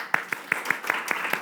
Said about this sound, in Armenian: Այո, այստեղ ուզում եմ ծափտանք